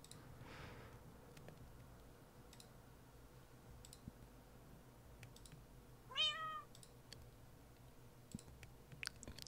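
A Minecraft cat sits in place and gives one short, clear meow partway through, against quiet game ambience with intermittent keyboard and mouse clicking.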